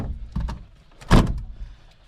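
Door catches on an old motorhome left sitting twelve years in the bushes clunk shut, a couple of light knocks followed by one solid thunk, close and alone.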